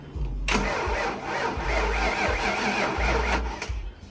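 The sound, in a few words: Foxbody Mustang engine cranking and starting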